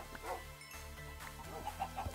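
Minecraft chickens clucking in short, close bursts against a droning game music bed, the clucks fairly quiet and repeated several times.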